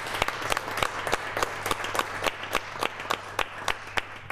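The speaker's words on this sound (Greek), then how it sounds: "Ένα ζεστό χειροκρότημα για τους εξαιρετικούς μουσικούς μας." An audience at a televised Greek music show gives the musicians warm applause, with scattered, fairly faint individual claps spaced out irregularly over a low hum rather than a dense ovation.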